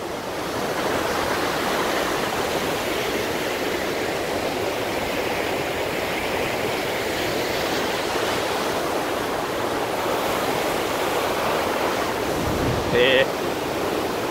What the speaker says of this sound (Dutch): Goeie waterval.